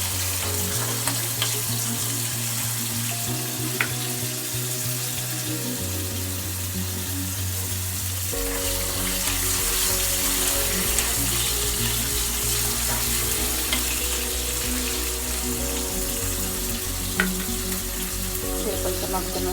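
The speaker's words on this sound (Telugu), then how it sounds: "ఇది కొంచెం ఫ్రై చేయాలి." Ingredients frying in a pan for chukkakura (sorrel leaf) chutney, a loud, steady sizzle with a constant hiss and occasional stirring clicks throughout.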